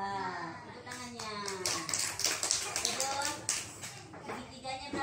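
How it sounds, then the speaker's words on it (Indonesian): Children in a classroom clap their hands in a quick, rhythmic patter at moderate volume, mixed with children's voices and speech. "Tepuk tangannya"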